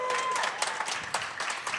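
Applause sound effect triggered by a button on a talk show set, a short burst of crowd clapping and cheering with people talking over it.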